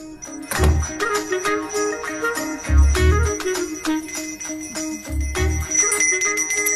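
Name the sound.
bell ringing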